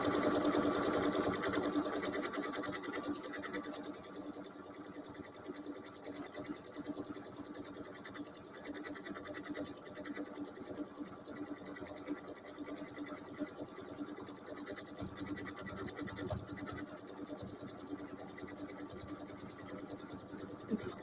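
A sewing machine sews a decorative scallop stitch with a small open eyelet, running steadily and close by with a fast, even mechanical whir for about twenty seconds.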